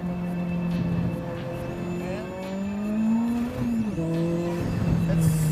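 A tuned Lotus sports car running on dual-stage rocket fuel revs and accelerates hard, engine pitch climbing and dropping through gear changes with squealing tires, loud and close without speech.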